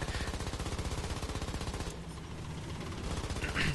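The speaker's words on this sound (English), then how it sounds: "I'm looking through the scope of the rocket launcher, and I'm watching the MG42 fire." An MG42 machine gun fires in War Thunder in long rapid bursts, a fast ripping stream of shots that briefly pauses and then resumes, loud and close.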